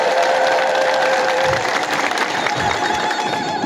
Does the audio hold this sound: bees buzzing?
no